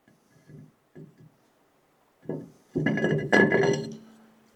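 A metal brake rotor slides onto the rear hub of a 1979-95 Toyota pickup during a rear disc brake conversion. A few soft knocks come first, then louder close metallic clanks and scraping that fade out.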